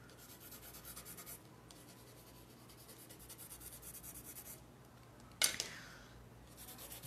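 A pen scratches across paper while drawing, a faint close rubbing in short strokes separated by pauses, with one sharper brief tap near the end.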